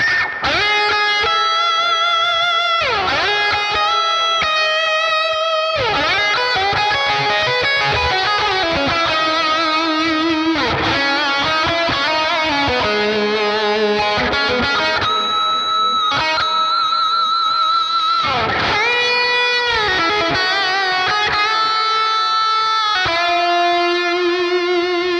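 Electric lead guitar through the Neural DSP Archetype Plini plugin with reverb and delay, clean melodic lines with sustained notes, bends and chords ringing into long delay tails, played loud and continuous without pauses.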